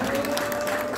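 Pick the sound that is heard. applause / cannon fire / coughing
applause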